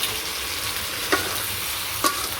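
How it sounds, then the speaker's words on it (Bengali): Village-style chicken curry masala is fried and stirred in a pan, a steady close sizzle broken by a few scraping clicks of the spoon. "ভালো করে কষিয়ে নিই।"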